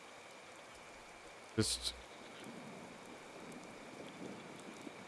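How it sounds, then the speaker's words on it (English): Faint, steady rain with distant thunder in the tropical survival game Card Survival: Tropical Island, a soft continuous wash interrupted by a brief spoken word. "It's heavy rain. I can hear thunder."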